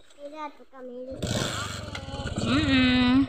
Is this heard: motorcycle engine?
yes